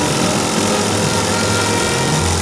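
A small engine running steadily and loudly up close, a continuous buzzing drone with a faint low hum underneath and no talk.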